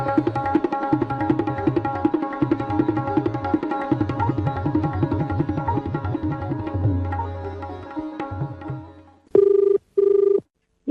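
A telephone rings in a radio studio phone-in programme, repeated bursts of an electronic ringing tone with a rhythmic pulse, followed near the end by two long sustained tones, close and clear.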